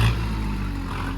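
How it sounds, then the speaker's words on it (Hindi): A Kubota tractor's engine runs steadily through a service-shop test drive, a continuous low rumble with mechanical clatter, fairly close and loud without breaks. "ट्रैक्टर हमारा रेडी हो गया। अभी इसकी होगी टेस्ट ड्राइव।"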